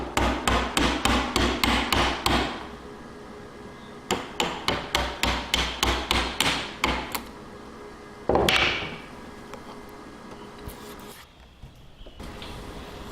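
A sharp chisel is mallet-struck into wood end grain for a dovetail lap joint: a rapid run of crisp, evenly spaced knocks, a short pause, another run, then a scraping chop and a few lighter taps.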